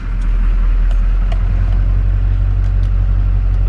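A 2002 GMC Duramax 2500HD diesel pickup runs with a loud, steady low rumble close by, a few faint clicks and taps sounding over the continuous engine drone.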